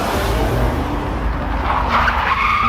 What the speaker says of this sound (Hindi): मेले के दरवाजे के पास आते ही गुल्ली गाड़ी रोक देता है।